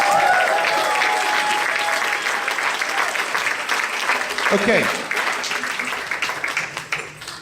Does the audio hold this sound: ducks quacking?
no